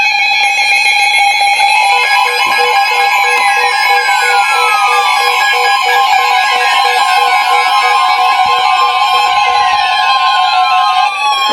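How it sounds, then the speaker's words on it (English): NOAA Weather Radio severe weather alert tone: a loud, steady, continuous electronic alarm tone with layered harmonics, sounding alone without any voices throughout. "This station will broadcast severe weather alarm tones."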